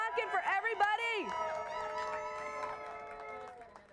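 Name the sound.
crowd cheering, whooping and honking horns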